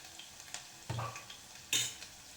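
Ginger garlic paste frying with onion in oil, heard as soft sizzling with two brief louder bursts of stirring and a spoon scraping the pan, no voices.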